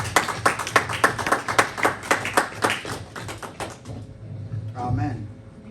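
A church congregation claps in a fast, even rhythm for about four seconds, sharp close hand claps that then stop, leaving a low murmur and a brief voice.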